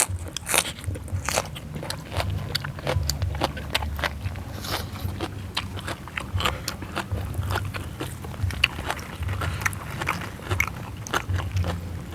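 Crispy pork belly with a thick crackling skin is bitten and chewed up close, making a continuous stream of loud, sharp crunches and crackles.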